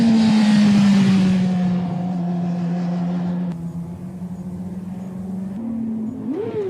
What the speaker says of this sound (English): He's revving it, but too high and still on and off the brake lever, pogoing the bike.